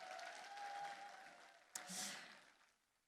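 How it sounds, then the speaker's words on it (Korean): At a book-launch event, an audience applauds after a youth performance of gogo janggu drumming and K-pop. The clapping is faint and distant, fades out, and is marked by one sharp knock partway through. "네, 다시 한번 큰 박수 보내주시길 바라겠습니다."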